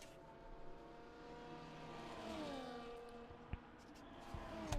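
In an F1 racing game at the Australia race, an F1 car engine whines at a low level, its pitch sliding up and down through gear changes, with a couple of brief knocks.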